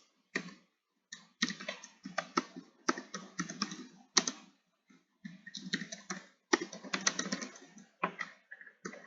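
Rapid bursts of typing on a computer keyboard, clustered keystroke clicks in uneven runs separated by short pauses, close and clear with no talking.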